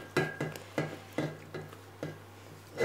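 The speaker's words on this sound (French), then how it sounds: "Bien remuer." Choux pastry dough for a Paris-Brest is beaten by hand with a spoon in a pot, making about seven soft, evenly spaced sticky slaps close by, quiet and alone.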